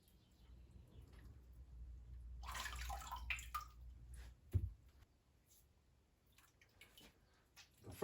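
Wet clay squishes and slaps as a pottery handle is pulled by hand with lots of water, a soft continuous wet sound that swells in the middle and ends with a brief thump, followed by quieter drips and rustles.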